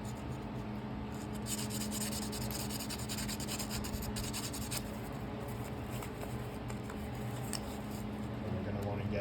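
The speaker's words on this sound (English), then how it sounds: "we're gonna wanna take a little bit of sandpaper, a wire brush works as well, and we're gonna wanna clean that" Abrasive rubbing and scrubbing as sandpaper or a wire brush cleans the grooves of a spark plug from a Honda GC190 pressure washer engine, a steady close rasping texture running throughout with a low engine-like hum beneath.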